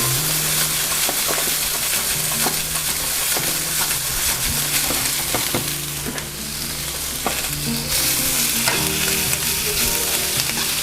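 Green beans frying in olive oil in a home kitchen pan, a dense, steady sizzle with a few soft clinks of stirring, close and continuous.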